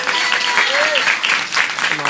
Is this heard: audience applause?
yes